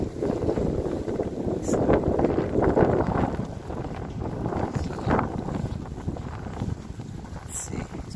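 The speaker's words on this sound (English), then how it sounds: "Snowstorm is on, coming down" Strong wind blowing into the microphone during a heavy snowstorm while walking outdoors, a steady loud gusty rumble throughout, with some voices under it.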